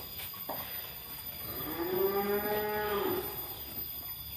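A Simmental cow in a cattle shed lets out one long, rising and falling moo that sits clearly above a steady background hum, loud and fairly close.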